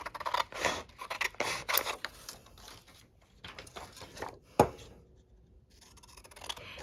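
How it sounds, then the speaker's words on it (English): Scissors snipping through paper card while making a handmade Valentine's card, a quick series of close crisp cuts with one sharp snap near the end and quiet pauses between. "And I'm just going to quickly cut that."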